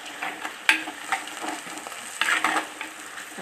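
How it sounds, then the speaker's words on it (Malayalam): Food frying in a pan for a kappa fish curry with washed curry leaves being stirred in, a soft continuous sizzle with scraping stirs and light clinks, close and alone. "നമുക്ക് ഇളക്കി കൊടുക്കാം."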